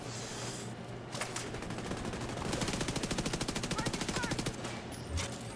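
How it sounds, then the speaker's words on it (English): Rapid sustained SMG bursts in The Division 2, a fast even stream of shots lasting a couple of seconds after a few scattered single cracks, moderately loud against ambient game noise. "Good little SMG though."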